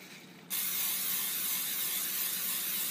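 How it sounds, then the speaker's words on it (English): Cooking spray hisses from an aerosol can onto bread dough pressed into a small pan, a steady close hiss starting abruptly after a short quiet moment and holding to the end. "spray the top of it."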